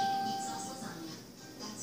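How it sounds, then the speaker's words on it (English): A two-tone doorbell chime rings out early, its clear tonal note fading beneath a broad background hiss, with a voice faintly present alongside. "with that ding dong that just happened"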